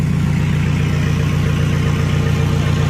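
A six-wheel pickup slide truck with fifteen-inch wheels, still under construction, runs its engine on a test drive, a steady loud low rumble with an even drone throughout and no voices.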